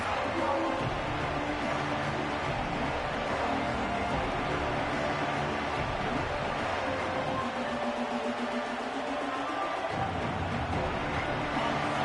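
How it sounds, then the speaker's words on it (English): A college football stadium crowd at an SMU vs Michigan game keeps up a loud, steady roar of cheering for the whole stretch, with a voice faintly under the din. "This crowd, full throat, spreading the eardrums and letting them know it's going to be a long day."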